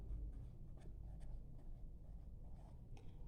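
Marker or chalk writing drink names on a board during a language lesson, faint scratchy strokes in short bursts at close range, quiet and alone.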